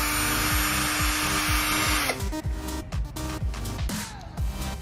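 A Berala BL-785 72V cordless drill whirs at a steady high pitch for about two seconds, then winds down and stops, followed by clicks and brief bursts as it is handled.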